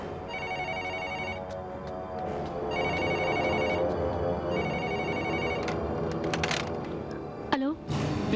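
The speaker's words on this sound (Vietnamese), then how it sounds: "Vào phòng nghe điện thoại." A telephone rings in repeated bursts indoors, each ring a short electronic trill separated by pauses, over background noise and some movement.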